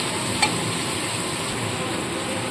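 Chopped capsicum and onion sizzle steadily in hot oil in a pan, a dense, even frying hiss that continues throughout with no pauses or talking.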